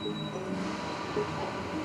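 Train pulling into a station platform at Central Station, a steady low rumble of rolling wheels with a faint thin squeal, continuous and fairly near.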